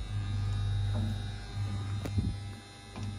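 The motor of an LS-005 multi-blade slab saw runs with a steady, close, loud electric hum and buzz, broken by a few faint clicks and knocks.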